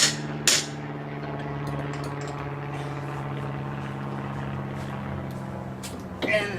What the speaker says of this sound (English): Just give it a couple of good whacks.